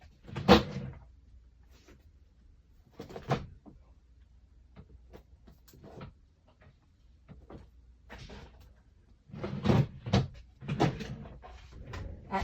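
A labeled craft-supply drawer being opened and rummaged through, with a series of scattered wooden knocks, slides and clatters spread over several seconds, close and moderately loud, busiest toward the end, with no talking.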